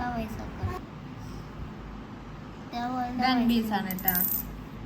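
Old coins being handled and dropped, small metallic clinks scattered over a few seconds while a person talks nearby.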